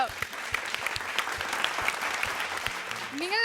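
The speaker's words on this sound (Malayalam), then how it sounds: "നമുക്ക് വലിയൊരു കൈയടി കൊടുക്കാം." A studio audience at a magical circus entertainment show claps steadily, a dense patter of applause running through the whole moment.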